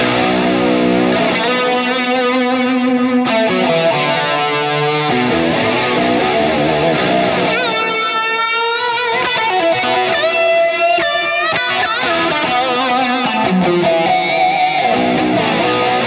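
Distorted electric guitar phrases through a Mesa Boogie Mark VII amp shimmer through MXR analog chorus and Source Audio Nemesis delay, notes ringing and repeating in a continuous, loud passage.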